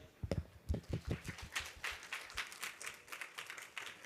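A conference audience at a startup investment forum claps for a speaker coming on stage: a faint, scattered patter of hand claps that starts in a burst and then thins out.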